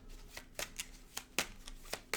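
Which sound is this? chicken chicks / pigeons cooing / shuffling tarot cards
shuffling tarot cards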